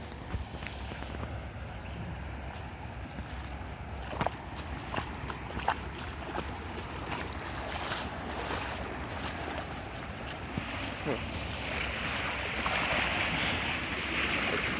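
Muddy creek water overflowing and rushing beneath a bridge after a windstorm, a steady broad outdoor roar that holds for the whole stretch and swells slightly toward the end.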